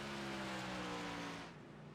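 Engines of NASCAR Xfinity race cars on the Daytona oval in the iRacing sim drone past as a steady pitched whine, fading slightly at the end, moderately quiet and with no voices.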